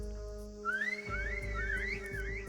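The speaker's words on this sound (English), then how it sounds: "He whistles, signaling the guards to begin their massacre." A sharp, sliding whistle rises and wavers over a steady low hum, with soft thumps beneath, a single tune-like call lasting a couple of seconds.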